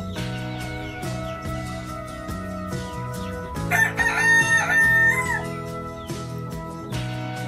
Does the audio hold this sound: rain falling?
no